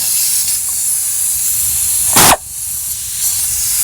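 A single short burst of penetrating oil sprays onto a bolt on a starter bracket, loud and close, over a steady background hiss.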